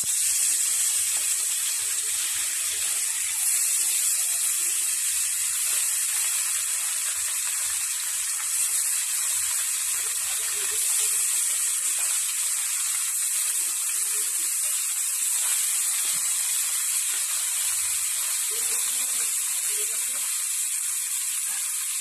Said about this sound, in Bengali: এই মাছটা ভালোভাবে লাল করে ভেজে নেব